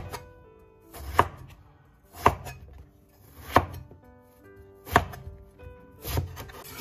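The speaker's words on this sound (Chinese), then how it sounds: "然后我们给它切成滚刀块" A kitchen knife cuts a tender eggplant into roll-cut chunks on a board, five evenly spaced solid chops about a second apart, each a crisp thud, close and alone.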